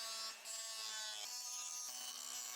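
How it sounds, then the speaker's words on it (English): A cheap cutoff wheel trims a part to shape, giving a steady, high-pitched grinding whine with a bright tonal ring. It is continuous and fairly close, with slight dips as the cut shifts. "I'm going to use my cheapy cutoff wheel and do a little trimming."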